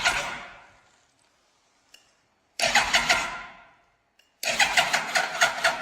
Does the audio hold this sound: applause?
no